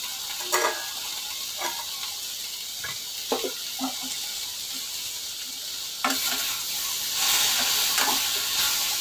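Eggplant curry sizzles and hisses steadily in a pan, with a few clinks of stirring near the start and the frying growing louder and brighter toward the end; no one speaks.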